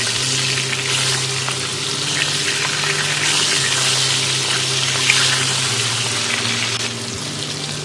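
Large bata fish frying in hot oil, a steady loud sizzle with crackling that runs unbroken throughout, with faint stirring sounds and no voice.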